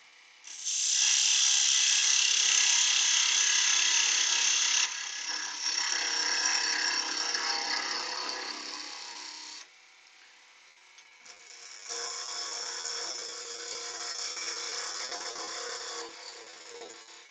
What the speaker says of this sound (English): using our parting tool then, we'll just reduce this.